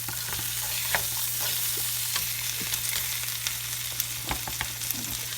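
Seafood sears in a hot pan with a constant crackling sizzle and scattered pops and utensil taps, over a low steady hum.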